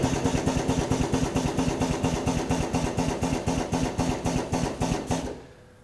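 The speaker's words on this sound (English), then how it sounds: "We then press our clamp button to clamp the arms around the drum" Stainless steel ATEX power clamp drum tipper closing its arms around a plastic drum, a rapid regular mechanical pulsing throb that runs steadily and then stops abruptly.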